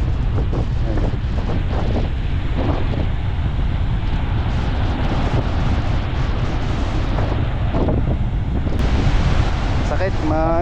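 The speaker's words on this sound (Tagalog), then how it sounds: "Medyo maingay talaga at malakas ang hangin." Strong, sand-carrying wind buffets the microphone with a constant loud rumbling roar, with surf-like wash beneath and faint voices briefly audible.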